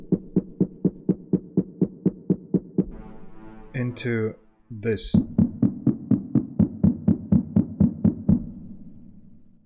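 A steady run of short, punchy one-shot drum samples repeating evenly, each one shifting slightly in pitch, briefly interrupted by a few spoken words midway.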